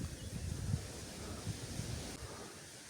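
Wind gusts and buffets the microphone in a steady low roar among reeds at a fishing spot, with no other sounds standing out.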